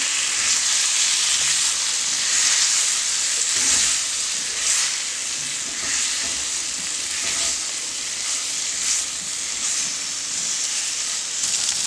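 Venison pieces frying in a pan for soup, giving a loud, steady, close sizzle with bright hiss that continues unbroken, with a few soft stirring shuffles and no talking.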